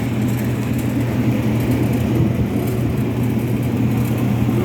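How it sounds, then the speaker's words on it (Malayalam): A valve seat cutter works the inlet seat of a Scania truck cylinder head, a steady motorized whir with a low hum underneath, droning evenly and close by without speech. "ഇനി അടുത്തിട്ട് കട്ട് ചെയ്യുന്നത് നമ്മൾ ഇല്ലറ്റാണ് കട്ട് ചെയ്യുന്നത്."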